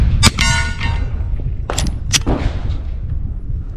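A ZEV OZ9c 9mm pistol firing unsuppressed on a range: loud, sharp gunshot cracks close by, an opening shot followed by a couple more, each with a ringing, echoing tail.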